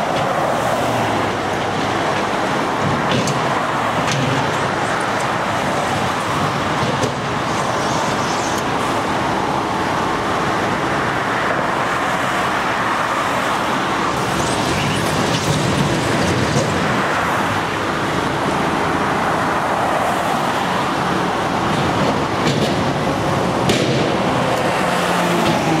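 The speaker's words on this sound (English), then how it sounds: "the dump trucks are coming down the wrong side of the highway" Dump trucks rolling down a highway during emergency erosion repairs after a hurricane, a continuous roar of heavy road traffic with engine rumble and tyre noise that swells and passes at moderate distance, no talk.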